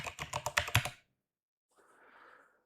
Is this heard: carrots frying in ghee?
no